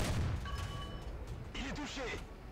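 A French tank's cannon in War Thunder fires once with a deep, muffled boom at the start, followed by someone talking over faint background game noise.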